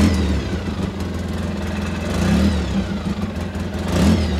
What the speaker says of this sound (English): let's go forward so I don't run this into my house